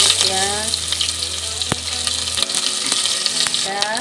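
Bay leaf and dried red chilli frying in a little hot oil inside a pressure cooker, a steady close sizzle throughout with a brief stirring clatter and no talking.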